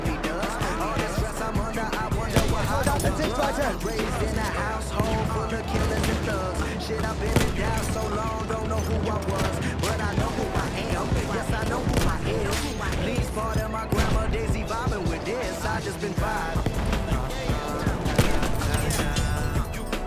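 Battlefield 1 battle sounds around a scoped Martini Henry sniper rifle: dense, continuous gunfire and explosions fill the whole stretch, with no clearly separate single rifle shot, and talk mixed underneath.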